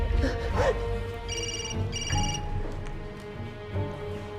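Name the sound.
telephone ringing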